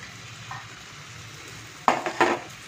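Ghee going into a pan of banana stem curry cooked village style, with a faint sizzle, then two loud close stirring scrapes near the end.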